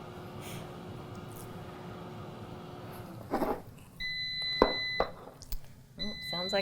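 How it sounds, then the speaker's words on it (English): An air fryer beeps to signal the food is ready, several short electronic tones near the end following a stretch of quiet background. "sounds like our air fryer is about ready for us."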